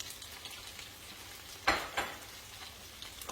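Cubed steamed sweet potatoes stirred in a frying pan, a soft low sizzle with two distinct scrape-and-clatter strokes close by.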